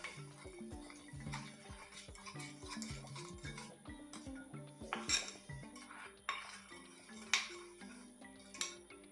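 Utensil clinking and scraping against a bowl while stirring a marinade for chicken fajitas, a steady run of close, light metallic taps and knocks with no voices.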